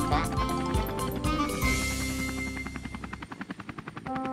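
A cartoon helicopter comes in to land, its rotor chopping in a quickening pulse that rises out of a busy music bed, loud and close, with voices talking over it.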